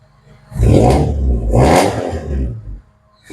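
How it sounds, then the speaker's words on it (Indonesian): A Toyota Corolla engine, recently repaired for clutch noise, unstable idle and a broken CV joint, revs up twice in quick succession, rising and falling smoothly up close with no one talking. "Nih, mesinnya halus, sudah tidak ada suara srok srok srok."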